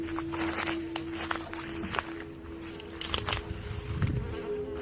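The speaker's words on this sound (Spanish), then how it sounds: "¿Hay abejas por aquí?" Insects, bees, buzz faintly around, with small intermittent hums and patters over a quiet outdoor background at an abandoned house.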